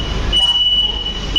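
An AC EMU local train on the Chennai Beach to Tambaram line rolls into Saidapet station with a steady heavy rumble, and a thin high wheel squeal rises midway and holds close by.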